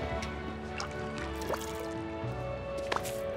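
Plant being watered in Disney Dreamlight Valley: a soft game splash of pouring and dripping water over steady background music, with a couple of brief drip accents.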